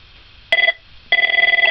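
A basic telephone rings with an incoming call, its electronic ring tone sounding in two bursts, the first short and the second longer with a rapid warbling pulse, loud and close with no talk.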